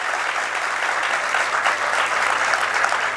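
An audience gathered for a monk's evening meditation sessions claps loudly and continuously, a thick even roar of hands lasting about three seconds.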